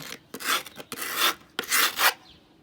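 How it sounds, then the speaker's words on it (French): Phone back scraped against skateboard grip tape in several rough, rasping strokes of about half a second each, separated by short pauses, close and crisp with no voices. "on va essayer de gratter l'arrière contre le grip"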